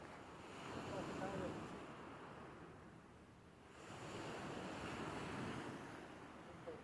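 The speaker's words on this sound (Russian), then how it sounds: "Море суперовское." Sea waves breaking on the shore at Koktebel, a steady rushing surf that swells, dips briefly, then builds again, with wind buffeting the microphone throughout.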